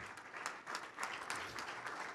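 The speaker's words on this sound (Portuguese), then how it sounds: "Vamos aplaudir mais ao Senhor Jesus" A church congregation applauds, steady dense clapping from many hands filling the room, moderately loud and continuous with no talk over it.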